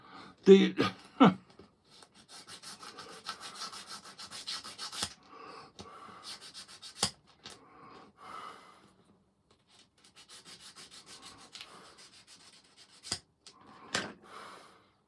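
A surface being rubbed smooth by hand during a quick repair: short, quiet scraping strokes in rhythmic bursts separated by pauses, punctuated by a few sharp knocks.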